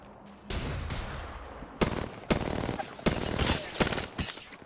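Rapid gunfire in a shooter video game crackles in several sharp bursts, loud and close, with short gaps between volleys.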